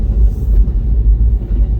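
A single-car train rolls past close to the tracks in rural Hokkaido, a steady low rumble that holds for the whole stretch with no voices.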